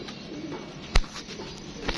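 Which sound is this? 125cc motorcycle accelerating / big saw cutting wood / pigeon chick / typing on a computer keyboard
pigeon chick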